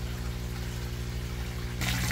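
Water runs from an azolla filter back into a tilapia fish tank in a recirculating aquaculture setup, a steady trickling flow over a constant pump hum that grows louder and splashier near the end.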